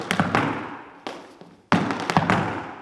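Irish dance shoes strike the floor in a bang followed by quick treble taps: sharp, close thuds and clicks in uneven bursts with short pauses between them.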